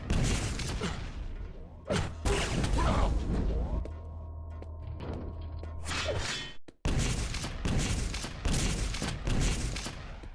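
Indirect rockets in a Quake Live match fire and explode in loud repeated bursts with whooshing launches, amid constant frantic gameplay noise and a brief sudden drop mid-sequence.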